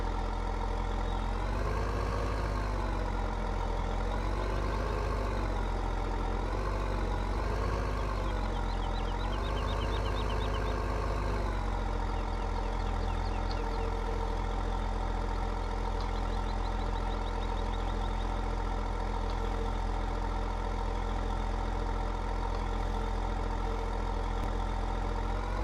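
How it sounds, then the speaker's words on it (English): Tractor engine running steadily at a low, even idle, close by and loud, its pitch briefly wavering as it shifts position, then settling into a constant drone with no talk. "Just going to get the tractor over a little bit."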